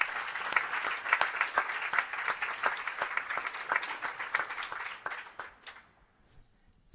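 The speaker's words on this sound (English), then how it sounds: "give him a warm applause." An audience applauds steadily for several seconds, a dense wash of many hands clapping that thins out and fades near the end.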